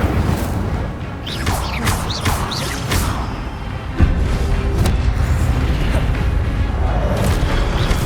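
Incendio fire spells are cast in the Hogwarts Legacy video game: repeated whooshing bursts and a sharp thud midway rise over dense, continuous battle noise.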